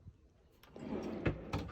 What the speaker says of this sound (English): And these drawers pull out a little bit more.